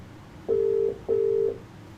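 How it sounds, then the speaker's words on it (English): A telephone ringback tone sounds twice while dialing out during a cycling live stream, two steady half-second tones separated by a brief gap, clear and fairly loud. "I'm going to talk to Russ now, and let's see if we can get hold of Russ."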